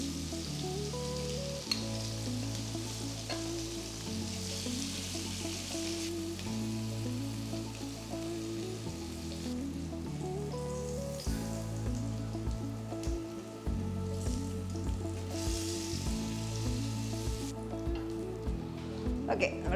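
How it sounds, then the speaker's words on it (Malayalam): Paneer frying in oil makes a continuous crackling sizzle, like light rain on a surface, beneath steady melodic background music. "നമ്മൾ പനീറെല്ലാം ഫ്രൈ ചെയ്തു."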